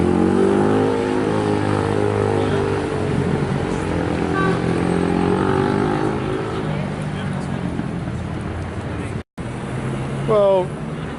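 Busy street traffic and buses roll through Trafalgar Square in London, a steady engine rumble with passing vehicles, close and loud, with voices mixed into the crowd noise and a brief dropout near the end.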